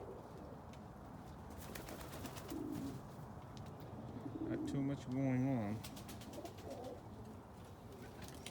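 Domestic pigeons coo outdoors on a cold day, soft repeated throaty calls near the middle, while someone talks quietly over them.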